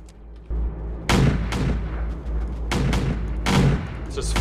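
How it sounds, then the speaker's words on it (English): Artillery guns firing in the video game Home Wars Mech Defense, several sharp booming shots in irregular succession over a low rumbling background. "Just fire the 88s, the 81 millimeters at everything on the ground now."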